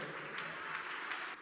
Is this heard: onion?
no